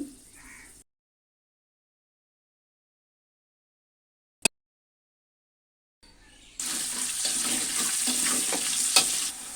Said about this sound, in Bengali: এই আলুগুলো আমি মাংসর জন্য ভেজে নিব।